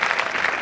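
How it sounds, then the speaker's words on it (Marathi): A short, loud burst of audience applause for a student performer at a school cultural programme, dense clapping filling the whole moment. "पुन्हा एकदा जोरदार टाळ्या त्याच्यासाठी होऊ दे."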